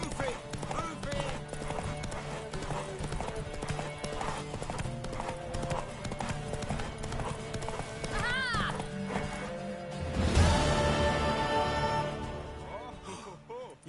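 Horse hooves clip-clop in The Witcher 3: Wild Hunt, a steady run of hoofbeats under game music and character dialogue, with a horse neighing partway through and a louder surge of sound near the end.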